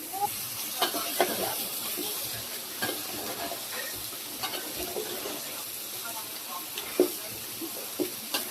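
Bottle gourd pieces frying and being stirred in a pan, a soft steady sizzle with scattered clinks and scrapes of stirring throughout, close and moderately quiet, with no talk.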